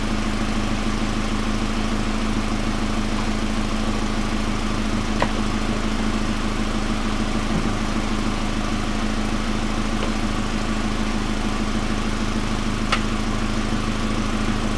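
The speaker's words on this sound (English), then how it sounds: "AC compressor clutch is what's making the noise." A running 1999 Pontiac Grand Am with a rebuilt 2.4 L LD9 Quad 4 engine, its AC compressor clutch making noise: a steady, loud drone with a constant hum and faint rattling, plus a few brief ticks, no speech.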